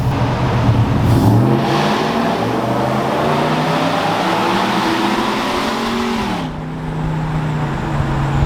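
A Ford F-150 truck exhaust roars loudly nearby, revving up, settling, then dropping and rising again in a sustained, throaty growl.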